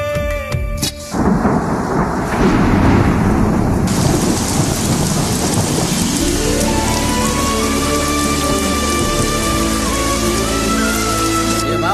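Heavy rain pours down loudly and continuously while thunder cracks and rolls, joined partway through by rising music in a film scene.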